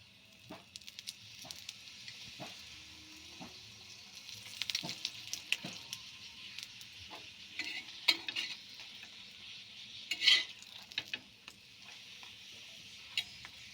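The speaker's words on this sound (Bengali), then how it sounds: "আমি এইভাবে সব পরোটাগুলো ভেজে নেব" Dahi paratha fries in oil in a pan with a soft, steady sizzle broken by scattered ticks and scraping clicks as it is turned and pressed.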